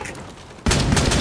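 Gunfire in Rainbow Six Siege cuts in abruptly after a quiet moment as a loud, close, sustained burst of rapid shots that runs to the end.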